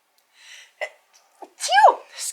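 A single close human sneeze, preceded by a few short intakes of breath and ending in a sharp, loud burst.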